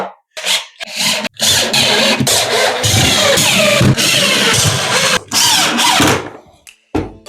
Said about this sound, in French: Tu vois, ils ont des ergots dessous, donc tu viens mettre des vis à travers.